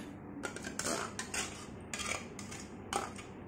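Curd goes into a hot pan for cucumber pachadi, with a few clinks of a spoon and scraping of metal cookware, close and fairly quiet, with no talking.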